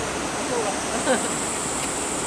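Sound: rushing water flooding up onto steps

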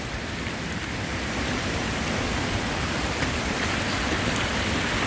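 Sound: heavy rain in rainforest

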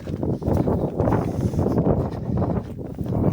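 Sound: wind blowing into microphone

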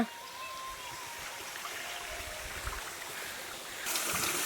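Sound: water flowing in a stream

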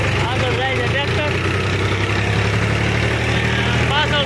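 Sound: tractor engine driving on road

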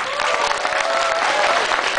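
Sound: audience applause at a Christmas party

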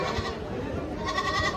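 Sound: goat bleating

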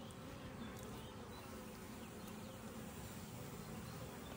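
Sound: honeybees buzzing around an opened beehive

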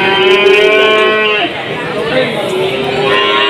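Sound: Limousin Simmental bull calf mooing at cattle market

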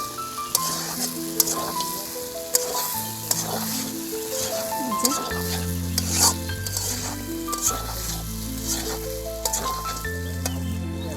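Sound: fried fish sizzling in a pan

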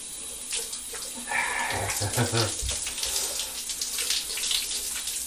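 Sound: running water while washing

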